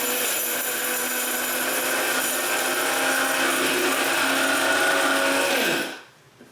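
An electric spice grinder whirs loudly and steadily, grinding a Mexican mole spice mix for about six seconds before spinning down and stopping.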